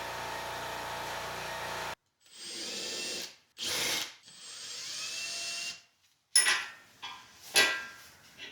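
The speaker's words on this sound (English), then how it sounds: "And just hand power tapping the holes, M6 tap." A power tool drives an M6 tap into holes in several short bursts with pauses between, stopping and starting, close and fairly loud with light clinks of metal.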